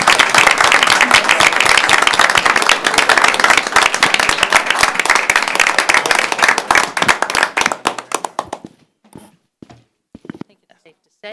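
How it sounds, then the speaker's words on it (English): An audience at a board of education meeting applauds the Belvidere bowling team, loud dense clapping that gradually thins to a few scattered claps and then silence, with some speech mixed in. "Another round of applause for the Belvidere bowling team"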